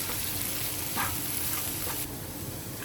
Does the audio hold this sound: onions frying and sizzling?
yes